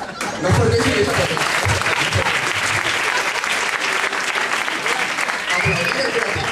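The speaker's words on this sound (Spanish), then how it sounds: "Aplaudir es gratis." Applause from a comedy show audience fills the room, a dense, steady wash of many hands clapping that carries on for several seconds, with faint voices mixed in underneath.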